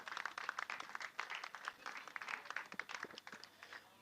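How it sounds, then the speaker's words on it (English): Applause from an audience for junior finalists at an award ceremony in Macau, a dense steady round of many hands clapping at moderate distance with no talk over it. "one big final round of applause for your OKN Junior finalists"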